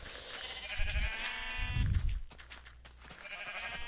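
Several Minecraft sheep bleat nearby, their wavering baas overlapping amid soft thumps and footsteps in the blocky game world.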